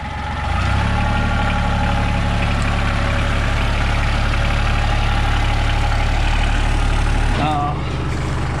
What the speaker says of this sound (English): we use this tractor to do a lot of our heavy lifting